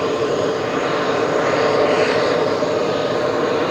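An airplane at JFK airport roars steadily at close range, a broad, even engine rumble holding for several seconds with no talk.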